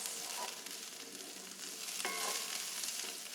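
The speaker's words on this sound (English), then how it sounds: "this is 1/2 of a diced onion going into my skillet. I just have a couple tablespoons of olive oil in there" Half a diced onion sizzles in a couple of tablespoons of olive oil in a skillet, a soft, steady, fairly quiet frying hiss with a brief brighter crackle partway through.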